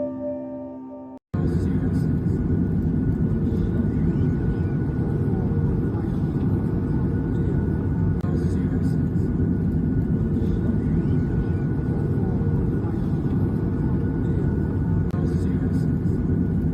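Steady loud engine roar and rumble from inside an airplane, continuous and droning, heard while filming a city burning in wildfires below.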